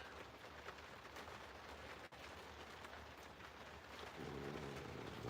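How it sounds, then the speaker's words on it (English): Rain falling outside, heard as a steady hiss of drops on surfaces that grows slightly heavier toward the end. "It's raining."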